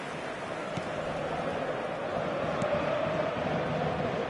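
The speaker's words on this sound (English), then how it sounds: "Maybe the crowd will stay a little quieter next time." A football crowd at Old Trafford during Manchester United vs Manchester City makes a steady, dense roar that rises slightly toward the end, distant and unbroken, with no commentary.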